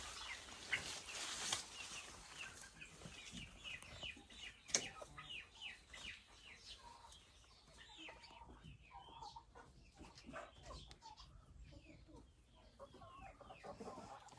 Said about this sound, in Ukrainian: Півникам жарко, вони повиходили. І отут всі.